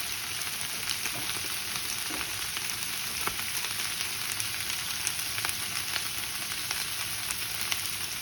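Brussels sprouts seared in a hot pan with salt and pepper give a steady, close sizzle, a continuous bright frying hiss with small crackles and pops scattered throughout and no talking.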